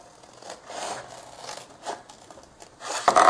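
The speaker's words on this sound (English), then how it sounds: "So just use your scissors," Scissors cut through the flaps of a homemade paper envelope with soft, close snipping and rustling strokes, ending in a slightly louder crinkle of handled paper.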